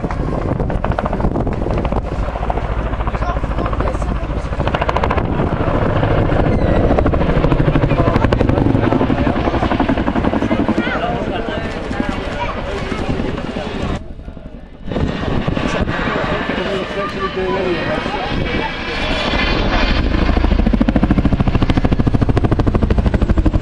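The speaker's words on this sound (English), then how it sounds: "Please welcome the 2013 Chinook display team." A Chinook twin-rotor helicopter performs its display at an RAF airshow, a loud continuous thudding rotor roar with wind buffeting that dips briefly before surging back.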